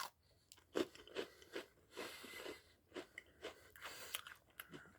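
Close, crisp chewing of a Cinnamon Bun Oreo cookie, a series of crunchy bites and mastication sounds at an irregular rhythm, quiet and intimate with no speech.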